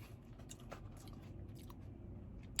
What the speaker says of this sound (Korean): 아삭아삭한 샐러리와